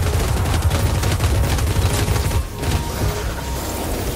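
In the video game Warhammer Vermintide 2, cannon fire cracks out in a rapid, continuous barrage of loud blasts and crackling impacts, with no talking.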